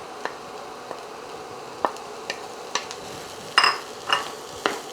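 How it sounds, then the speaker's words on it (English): Diced onion sautés in leftover beef grease for a spaghetti dish, with a faint steady sizzle broken by scattered clicks and scrapes of a spoon against the pan, close but quiet, with no voices. "there's enough grease that I can saute the onions and garlic"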